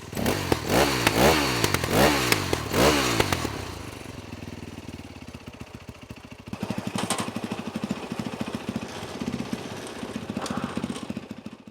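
A repowered Supercox, a small home-built vehicle, revs its engine hard in a few loud, rising bursts, then settles into a rough, clattering idle with rapid, uneven mechanical knocking.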